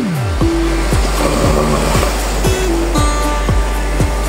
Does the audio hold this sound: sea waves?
yes